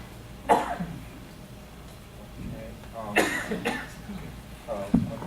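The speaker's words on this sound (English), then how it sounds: "Forgive me for my cough." Several coughs and throat-clearing bursts during a board of directors meeting, close and moderately loud, spread across a few seconds with brief murmured voice in between.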